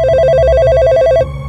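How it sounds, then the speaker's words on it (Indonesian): An old telephone rings with a rapid warbling electronic trill, loud and continuous for just over a second before cutting off, over a low background hum, in an old hotel. "Ia mengangkat telepon tua di meja."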